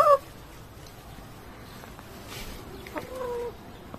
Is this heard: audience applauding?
no